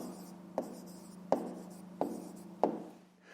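Handwriting an answer to a fractions problem, four short, distinct pen strokes tapping and scratching on paper at an uneven pace, close and quiet against a faint background hum.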